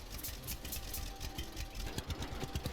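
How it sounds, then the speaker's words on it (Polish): A tractor engine in the farming game Farmer's Dynasty runs steadily at a low rumble, close and continuous with a faint rattling texture and no talk over it. "Więc, więc weźmy sobie nasz ciągnik."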